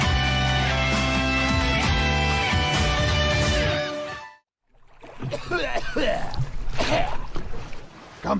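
Oars splash and creak as a rowboat moves over water in the game Return of the Obra Dinn, following a stretch of dense sustained music that cuts to near silence; the watery rowing sounds are close and steady.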